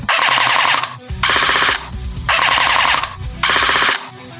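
A CYMA metal M16A4 gel blaster with a Solink brushless motor on a 7-volt battery firing in four full-auto bursts, each a loud close mechanical whirring rattle about a second long separated by brief pauses.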